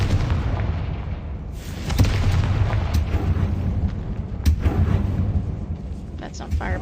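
The Confringo fire spell goes off in Hogwarts Legacy with a dense, rumbling explosion and a crackling roar that keeps going, loud and close, with a few sharp pops and bursts on top.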